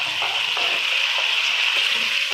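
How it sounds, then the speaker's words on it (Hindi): Mashed onion frying in lightly heated ghee for a dhaba-style daal mash, giving a steady, dense sizzle that stays close and even throughout, with faint stirring ticks and no voices. "घी हमारा हल्का हल्का सा गर्म हो चुका है। अब मैं इसके अंदर मैश किया हुआ प्याज"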